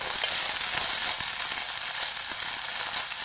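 Uncooked rice is sautéed in a pan for adobong sinaing, giving a dense, close, steady sizzle and hiss with faint stirring scrapes and no voice.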